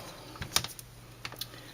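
The hinged plastic door of a stamp-positioning tool is shut while a poinsettia Christmas card is being made, giving a few short, sharp clicks and taps close by in a quiet room, the strongest snap near the middle.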